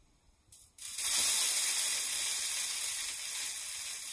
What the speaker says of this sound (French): J'entends un petit crépitement.